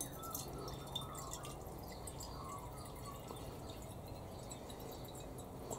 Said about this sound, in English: Let's fill this tank up before we put our onion in.